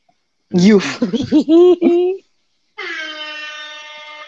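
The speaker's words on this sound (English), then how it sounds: "That deserves air horn" A sustained air horn sound effect blares loudly for about a second and a half right after a short stretch of speech on a podcast.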